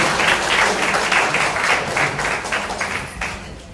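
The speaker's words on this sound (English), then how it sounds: "a big round of applause, please, for him" A town hall crowd applauds a pastor as he is welcomed to the front, steady dense clapping filling the room for a few seconds before tapering slightly at the end.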